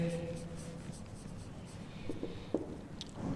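Chalk or marker writing out a Class X geometry solution on a board, short scratchy strokes in scattered bursts, with a voice talking faintly around them.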